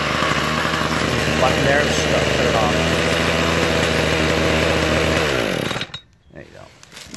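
A Toro 51976 25cc gas straight-shaft string trimmer engine runs in a steady, loud, buzzing drone for about five seconds, then cuts out abruptly, leaving quiet background, with a brief spoken remark over the engine.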